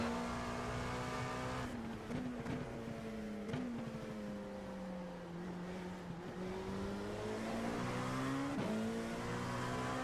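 Race car engines in a racing video game roar steadily through the whole stretch, pitch rising and falling with gear changes and throttle, several cars close together, a constant loud drone.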